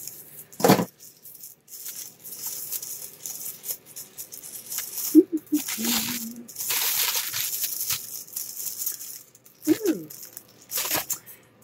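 Close crinkling and rustling of thin tissue paper in bursts, with sharper tearing-like crackles and pauses between handlings.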